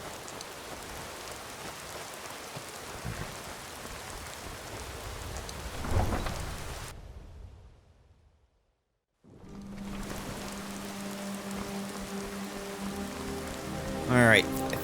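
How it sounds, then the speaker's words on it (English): Steady rain in Riften in the video game Skyrim pours continuously, with a low rumble of thunder; it cuts out briefly to silence, then the downpour resumes with a faint tonal hum underneath. "it is raining."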